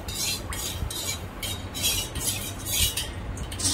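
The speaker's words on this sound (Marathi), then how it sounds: "आता हे चांगलं मिक्स करून घ्यायचंय एकत्र" A spoon stirs sugar into yogurt in a bowl, giving repeated scraping and clinking strokes in a steady rhythm, close and clear with no voices.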